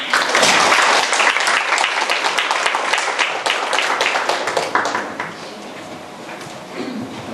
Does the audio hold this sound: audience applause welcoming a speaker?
yes